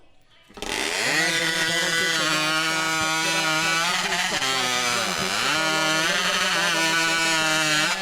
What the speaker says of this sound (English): they're outrageous beasts with a 250cc Honda-powered hot saw it is